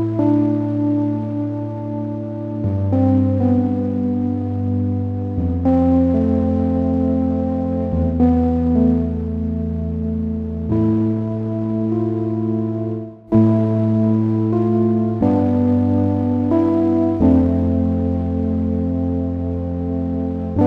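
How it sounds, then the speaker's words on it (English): Mellow, warm synth keys from a Synth Echo preset with a layer of noise, sustained chords changing every couple of seconds in a steady, continuous flow, full and close. "Synth echo is this mellow key sound with some noise to it, which creates this really warm sound"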